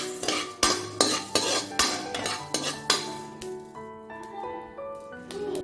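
A metal spatula strikes and scrapes a kadai while ingredients roast for a Telangana tamarind egg dish. Sharp clinks repeat in a steady rhythm, then the pan rings briefly, close and fairly loud with no talking.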